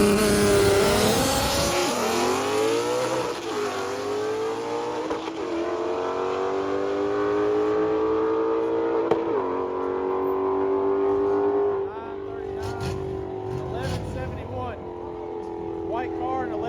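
Alpha 14 GTR race car on a drag strip, engine roaring and rising in pitch as it accelerates hard and close by, then shifting and pulling away, with a voice talking over it.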